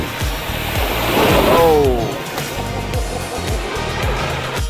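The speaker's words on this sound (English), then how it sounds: "And just like that, we go from making tidal waves to bone dry again." An off-road vehicle splashes through standing water on a forest trail in Osceola National Forest, a broad rushing slosh that swells mid-clip over a low engine rumble, while people talk nearby.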